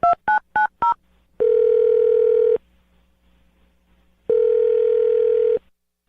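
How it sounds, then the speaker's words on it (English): Four quick touch-tone key beeps are punched in on a telephone, followed by two long steady ringback tones separated by a silent gap, clear and close. "I'm going to dial her phone number right now."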